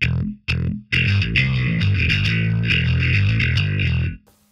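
Distorted electric guitar through a Line 6 POD Express, two short stabbed chords followed by a driving rhythmic riff of chugging chords that cuts off sharply near the end, loud and upfront with no voices.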